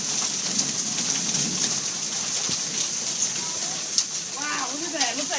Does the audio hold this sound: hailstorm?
yes